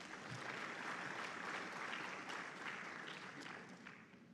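Steady applause from a conference audience at an African plant breeders' meeting, a dense wash of clapping heard at a distance and fairly faint, fading slightly toward the end.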